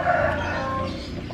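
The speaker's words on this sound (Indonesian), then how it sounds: "Itu suaranya ayam kakak." Chicken clucking close by, a short run of bright calls lasting about a second, heard alone without talk.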